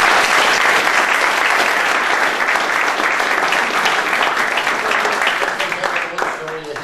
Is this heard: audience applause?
yes